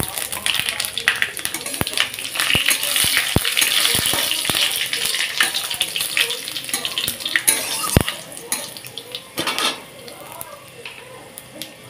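Panch phoron seeds splutter in hot oil with dried red chilli and bay leaf for a Bengali matar dal, a steady close sizzle broken by sharp popping crackles throughout.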